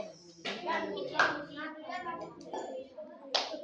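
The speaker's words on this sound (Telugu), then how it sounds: "claps for Arifa" Children in a school classroom give a few scattered hand claps for Arifa, sharp close claps interspersed among kids' voices and talking.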